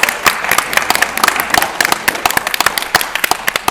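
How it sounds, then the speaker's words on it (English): A studio audience at an antiques quiz show breaks into applause, a dense, steady patter of many hands clapping close and loud for several seconds. "Give them all a round of applause."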